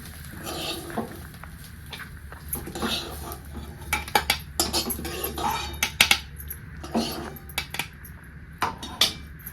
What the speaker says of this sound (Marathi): आपण आता ह्याला बारीक करायला मिक्सरच्या भांड्यामध्ये काढून घेऊया